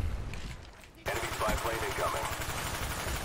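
Rapid automatic rifle fire in the Call of Duty Black Ops multiplayer game erupts after a brief pause, a steady fast stream of loud shots with someone talking underneath.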